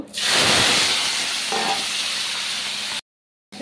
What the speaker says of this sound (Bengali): এঁচোড়টাকে এখন ভেজে নেব